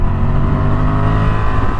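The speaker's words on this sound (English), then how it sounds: "Sounds great, that engine as well." A 2023 Honda Transalp motorcycle engine at a steady loud drone while riding on a warm day, a continuous rich rumble with wind noise throughout.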